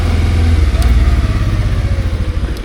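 A motorcycle engine idles unevenly with a low, loud, sputtering rumble that chugs and wavers throughout, stalling whenever the clutch is pressed.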